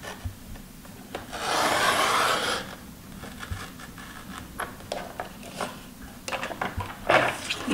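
Paper is cut between two strips for a handmade album, with a longer close swishing cut followed by short scratchy snips and light handling taps, quiet and near.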